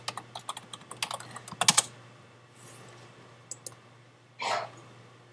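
Rapid bursts of keystrokes on a computer keyboard while logging into a game, loud irregular clicks clustered in the first two seconds, then sparse taps and a brief louder rustle near the end, with a steady low hum underneath.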